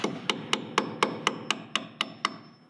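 Ten evenly spaced hammer strikes drive 3 1/4-inch 16D nails into porch boards, each blow a sharp, close, ringing thwack at a steady rhythm with no voices.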